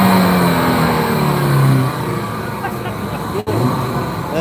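An Audi RS5's five-cylinder turbo engine revs at an auto show, a loud close burst that rises and then falls away into idle, with people talking over it.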